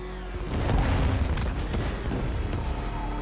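Explosions in the video game Batman Arkham Knight: a heavy booming blast swells up and rumbles with a deep low end, then trails into a sustained noisy roar of debris and game sound.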